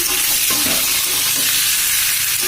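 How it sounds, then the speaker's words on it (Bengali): Chicken pieces, first rubbed with turmeric, sizzle and fry loudly in a kadai while being stirred, giving a steady close hiss broken by scraping stir strokes, with no talk. "কড়াইতে দিয়ে দিলাম এবার আমি এটা কষাবো"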